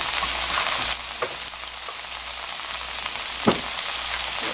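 Tuna added to onions frying in a pan gives a steady, close hiss and crackle of sizzling oil, with a few sharper pops and clicks of stirring, all without talk.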